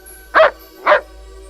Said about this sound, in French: Tais-toi, le chien, on voudrait dormir.